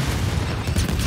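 Frag grenade detonation in Gears 5, a dense, loud low rumble that fills the whole moment without any voices.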